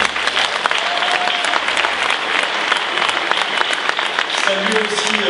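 A crowd at a political rally applauds a musical group, a dense, continuous wash of clapping that holds loud and steady throughout.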